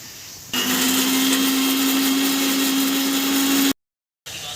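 An electric kitchen blender grinding a spice paste for chicken curry runs with a loud, steady, high whine for about three seconds, stops abruptly, then briefly restarts.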